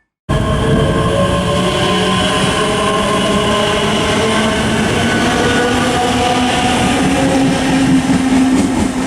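A ScotRail class 385 electric multiple unit, 385012, at Stirling station, running steadily and loudly throughout with a continuous motor hum and whine, layered tonal bands, and rumbling wheels on the rails.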